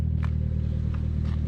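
A Toyota Corolla cruising on a back road, a steady low engine drone and road rumble from inside the cabin with faint rustles over the top.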